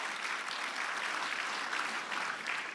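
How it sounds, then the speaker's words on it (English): A conference audience fills the room with a dense, steady round of applause after a speaker's introduction. The clapping stays loud and even throughout. "So let's give her a great big round of applause."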